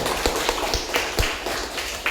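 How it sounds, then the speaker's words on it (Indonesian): Audience clapping at a sales seminar, with sparse, irregular claps standing out individually over a thin background, fairly close and moderate in level. "Tepuk tangan untuk kita."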